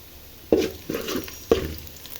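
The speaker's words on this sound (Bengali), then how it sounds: "পেঁয়াজ মরিচ লাল করতে দিয়েছি" Onions and chilies frying in a pan with black cumin: three short bursts of sizzling and stirring about a second apart, close and moderately loud, settling into a soft steady fizz.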